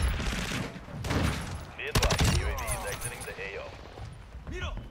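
Gunfire in the video game Call of Duty MW2, several sharp shots and bursts over game effects, with a voice talking over it.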